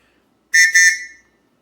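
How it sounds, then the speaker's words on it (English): A small flat survival whistle from a wilderness survival kit gives one loud, shrill blast of about two-thirds of a second. The tone briefly dips midway, then trails off. Nothing else is heard. "So I'm going to take this out here and blow it real quick. Here it is. It's just a little small whistle."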